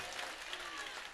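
A congregation clapping in praise, a short burst of dense applause heard at a distance and fairly faint, with a voice blended in.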